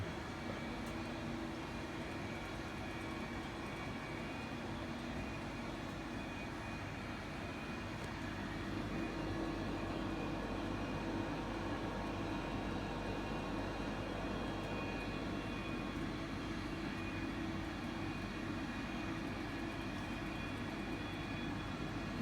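Airliner taxiing toward runway 12 left at Sydney after a flight from Tamworth, heard from inside the cabin as a steady low engine rumble and hum that holds evenly throughout, with no talk.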